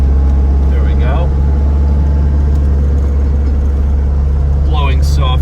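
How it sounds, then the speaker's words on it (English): Steady, loud blower fan running on high in a 1992 Range Rover Classic two-door, a constant broadband whoosh over a low hum, with brief chirping squeaks near the start and end. "So we've got the fan on high."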